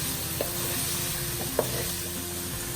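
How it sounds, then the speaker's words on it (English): Masala sautés in a pan for vegetable biryani, giving a steady, close sizzle throughout with a couple of faint clicks of a spoon and no voices. "the raw smell will subside as we keep sauteing it in the same flame."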